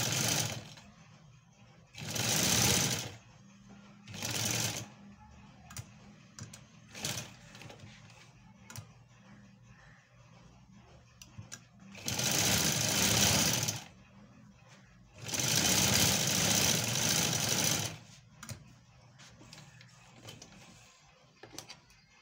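A home sewing machine stitches a pressed hem in several separate loud bursts of steady whirring, with quiet pauses between the runs and no talking.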